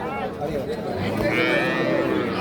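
Cattle at a busy livestock market where a Sahiwal heifer calf is on offer give a drawn-out, fairly close moo, heard over steady crowd chatter and nearby talking.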